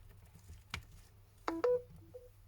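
Samsung Galaxy S22 charging chime as the charger is plugged in: a short pair of bright electronic tones followed by a softer higher blip, clear and close after a faint click, no speech.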